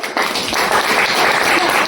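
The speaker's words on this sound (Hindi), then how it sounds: "एक बार उसके लिए ताली बताओ सब लोग" A class of students applauds a classmate, a close, loud and continuous wash of clapping hands with no clear individual beats, running through the whole short stretch.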